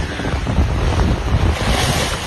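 Strong wind and ocean swell aboard a 19ft solo sailboat at sea, a loud continuous roar of gusts buffeting the microphone over the wash of water, with no voices.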